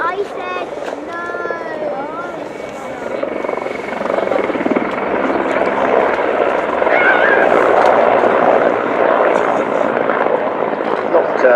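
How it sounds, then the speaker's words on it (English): Several Czech Air Force helicopters of different types fly past in formation, a steady rotor and engine roar that swells louder toward the end and holds near and dense. "see helicopters in formation, let alone different types of helicopters in formation"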